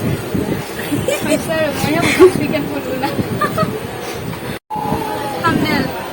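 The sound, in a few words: train starting to move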